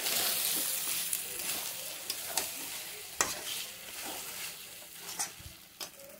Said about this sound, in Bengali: এবার নাড়িয়ে নিতে হবে।